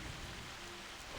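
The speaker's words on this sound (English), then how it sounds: "The rain." Steady, soft rainfall from the video game Reverse 1999 hisses evenly throughout, a faint, continuous wash with no distinct drops standing out.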